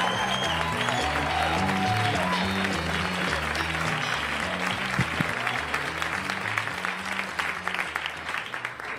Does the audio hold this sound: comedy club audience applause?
yes